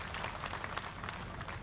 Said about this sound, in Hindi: उनकी धरती पर आपका जोरदार तालियों से एक बार स्वागत करें आदरणीय राजनाथ सिंह जी